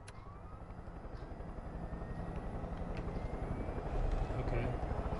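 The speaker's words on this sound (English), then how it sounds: "There's a helicopter for real." A helicopter in the video game Far Cry 5: a steady, thick rotor-like drone builds slowly and holds throughout, loud and continuous, with faint rising tones layered on top.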